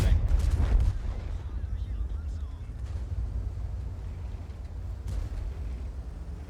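An artillery shell from an M12 lands in World of Tanks with a heavy low boom up front, followed by a rumbling, wind-like roar that lingers at a steady level.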